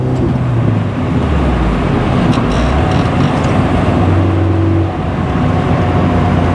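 A 1995 Nissan 240SX with an SR20 engine and Nismo exhaust accelerates through the gears, a loud, steady engine drone that climbs in pitch and briefly dips at each shift.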